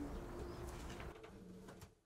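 Racing pigeons in a loft coo in soft, low, throaty murmurs over a steady background hum, with a sharp click at the very end.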